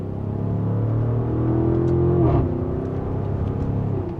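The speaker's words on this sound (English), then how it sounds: "you can hear it under those accelerations" A 2026 Audi SQ8 luxury SUV with a 500 hp V8 accelerates, its engine and exhaust giving a steady rumbling drone. The pitch climbs, dips briefly at a gear change, then holds. The sound is heard from inside the cabin, with no talk.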